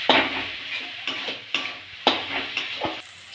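Spice paste of turmeric, chili, coriander and cumin powders fries in oil in a pan, sizzling loudly while a spoon scrapes and stirs it in regular strokes, with no talking.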